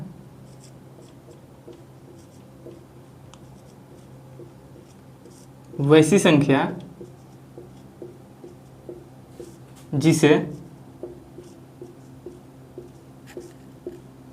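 Chalk or marker writing on a board in a Class 10 maths lesson on rational numbers, heard as two short scratchy bursts of strokes over a steady background hum, with talking before and after.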